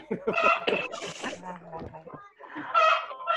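Chickens clucking inside a chicken coop, a steady busy layer of hen calls and a rooster-like cry running under and between people talking.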